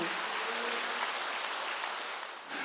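A church congregation claps together during a Wednesday worship service, a dense, even burst of hand claps that fills the room before briefly dipping and resuming.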